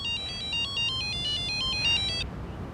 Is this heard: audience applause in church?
no